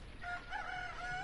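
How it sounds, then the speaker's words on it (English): A rooster crows in the video game Okami, one drawn-out, clear cock-a-doodle-doo heard close and alone with no talk over it. "Oh, you hear that rooster?"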